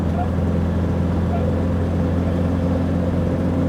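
A Yugo car's engine drones steadily and loudly from inside the cabin while driving, a continuous low hum with no clear break for the gear changes.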